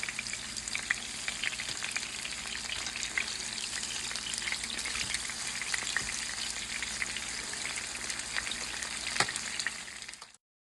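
Chicken frying in grapeseed oil, a continuous close crackling sizzle with small pops and stirring, holding steady for about ten seconds before cutting off, no voices.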